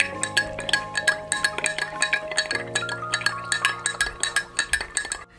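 A spoon stirs Horlicks powder into cold milk in a glass, clinking against the sides in a quick, steady series of close, bright taps, with no talking.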